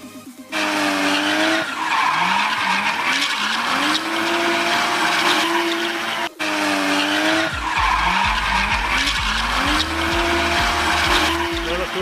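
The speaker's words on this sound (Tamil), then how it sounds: "நான் ஒரு ரேஸ் காரோட சவுண்டை டவுன்லோட் பண்ணிக்கிறேன்" Race car sound effect: a loud, continuous engine roar with revving pitch sweeps and tire-squeal skids, two passes separated by a brief cut near the middle.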